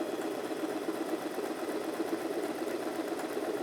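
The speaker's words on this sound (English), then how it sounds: "And if I start sewing now," An Alfa Style sewing machine sews a full-width zigzag stitch, a fast, even mechanical chatter of the needle running steadily and close up, with no talking.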